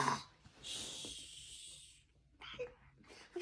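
A person snoring nearby with a raspy, wheezing breath, one long hissing draw followed by shorter snorting sounds, quiet and alone.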